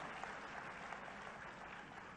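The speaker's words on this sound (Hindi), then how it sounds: "तालियां बजा के उन दीदियों का भी आप लोग" Audience clapping at a women's self-help group event in Bhopal, Madhya Pradesh, a steady continuous round of applause from a crowd at moderate distance.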